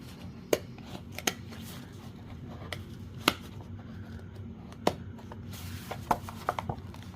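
Scissors cut out vintage paper images for a handmade soft cover journal, giving sparse, isolated snips and paper rustles spread out over a quiet, low background with no one speaking.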